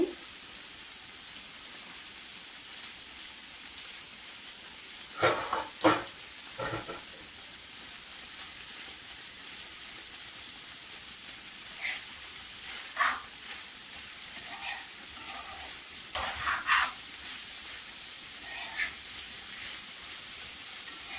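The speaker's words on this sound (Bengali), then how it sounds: "এক মিনিটের মতো নেড়ে ছেড়ে ভালো করে মিশিয়ে নেব" Boiled vegetables are stirred in a pan with chopped coriander leaves, a faint steady hiss of frying broken by a few sharper scrapes and clinks of the spoon.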